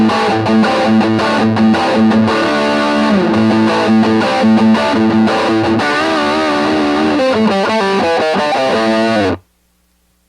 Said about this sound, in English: Killer distortion